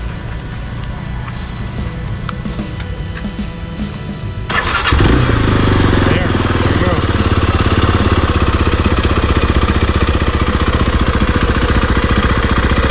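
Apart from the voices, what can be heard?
motorcycle engine starting and idling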